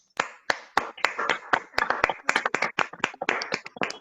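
A round of applause from a small group at a Toastmasters club installation ceremony, loose overlapping claps that rise and continue steadily for several seconds, close by.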